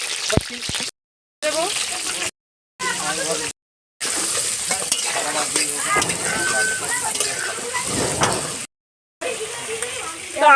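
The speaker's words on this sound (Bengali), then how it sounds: "মাংসর আলুগুলো আমি ভেজে নেব" Potatoes fry in hot oil in a kadai with a dense, continuous sizzle and crackle, interrupted by brief gaps, with occasional stirring close by.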